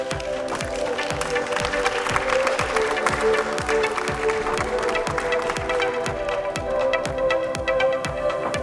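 Audience applause at a Miss Universe Croatia pageant as a top 10 finalist is welcomed: steady, dense clapping from a crowd that goes on throughout, with music and an announcer's voice faintly underneath.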